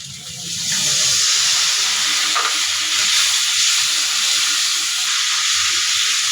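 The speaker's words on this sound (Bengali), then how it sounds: "এখন আমার বাটা মশলাটা তেলের উপরে ভাজা হয়ে গেছে।" Ground spice paste of green chili, cumin, coriander and turmeric frying in hot oil in a pan, a steady dense sizzle and hiss that holds loud and even throughout with no talking.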